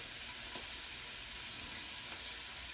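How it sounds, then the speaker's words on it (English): Onions and hamburger meat frying in a pan for hamburger steaks, a dense steady sizzle heard up close with no voices over it. "Now I'm finna go and put my onions in here"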